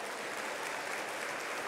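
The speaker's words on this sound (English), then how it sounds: "Give Sherry a round of applause." A dinner audience at an annual fellowship gala applauds continuously, dense clapping filling the room at an even, moderate level without a break.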